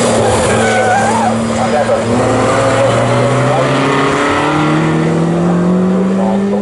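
Pre-1963 race car engine howling during a race at Snetterton circuit, a loud sustained drone rising in pitch as it accelerates, heard close with commentary talking over it.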